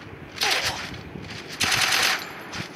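An MP gun in a video game fires two loud, close bursts of rapid automatic gunfire, each lasting about half a second, with a short gap between them and no talking.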